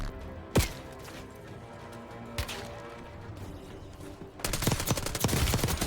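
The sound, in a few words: SMG gunfire in Call of Duty Warzone video game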